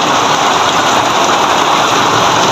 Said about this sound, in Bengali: অনেক বৃষ্টি বৃষ্টি রে ভাই